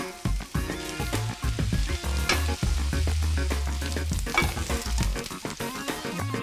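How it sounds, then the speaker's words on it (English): Chopped onions sautéing in three tablespoons of hot oil while cooking Israeli dishes, a steady loud sizzle with stirring scrapes throughout, backed by music with strong low tones and no talking. "The onions go into 3 tablespoons of hot oil, and I'll saute them just until they're translucent."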